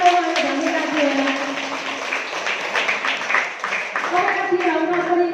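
An audience claps in sustained applause to thank the women at a closing ceremony of a leadership and announcer training in Kirtipur ward 9, steady and moderately loud, with a voice speaking over it throughout.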